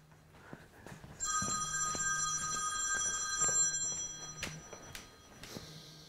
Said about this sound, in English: That'll be the phone then.